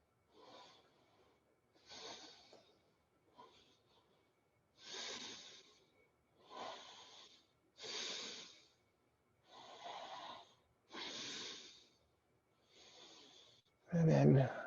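Slow, even breaths during a yoga wheel backbend, roughly eight or nine soft breathy puffs spaced about every one to two seconds, close and quiet, with a louder burst at the very end.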